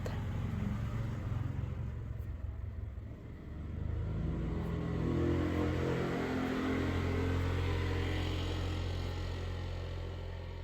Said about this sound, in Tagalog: hindi po ako makarinig masyado guys dahil maraming motor motorsiklo na dumaan